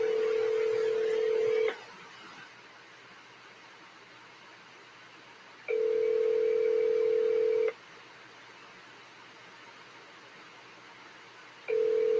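A telephone line gives steady tones in repeating bursts of about two seconds, each followed by roughly four seconds of faint hiss, as when a call is dialed and rings out. No voices.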